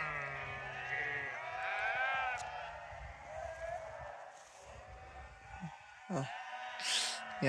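Sheep bleat repeatedly, overlapping, at moderate distance as a flock is driven down a road by a herding dog, with a steady background murmur throughout.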